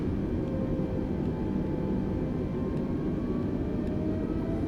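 Airbus airliner taxiing after landing on Zante in Microsoft Flight Simulator 2020: a steady low engine rumble and whine hold evenly throughout, with faint tonal hums drifting above, no voices.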